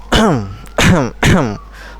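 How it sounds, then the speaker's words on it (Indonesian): Three harsh, loud coughs in quick succession, close up, each a raspy burst with a brief pause between. "Jadi ketika kita misalnya aku batuk lagi ya"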